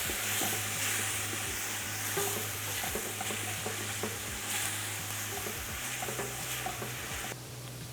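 Food for a Greek dish being mixed in a frying pan, a constant close sizzle with repeated scraping strokes of the spoon, steady throughout and without talk.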